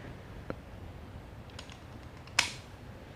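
A Lego gun fires after its trigger is pulled slowly, giving a faint plastic tick early on and then a single sharp snap of the shot, quiet and close with a soft click at the end.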